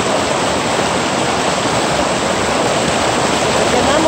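Rio del Rosario runs fast and full, a loud, dense, unbroken roar of rushing river water close by, with no talking.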